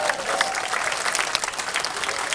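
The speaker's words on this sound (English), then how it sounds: "Give him a nice round of applause." A crowd at an outdoor street show in Ottawa claps steadily and fairly loudly, sustained applause close by with a faint voice underneath.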